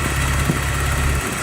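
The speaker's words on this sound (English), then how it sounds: "the car sounds great. It's running good." A Porsche 944 engine idles close by with a steady, low, throbbing rumble that stays even for just over a second before dropping away briefly at the end.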